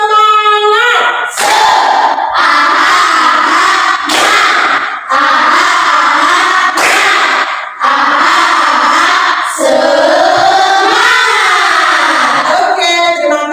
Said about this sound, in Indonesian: Biar lebih semangat, kita tepuk semangat dulu. Ayo, tepuk semangat.